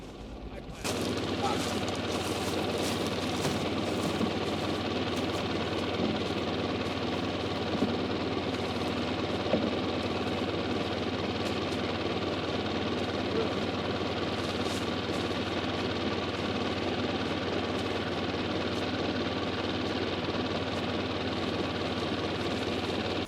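A large tractor engine runs steadily at a constant low rumble for the whole stretch, with occasional faint clanks over the drone, during a farm harvest.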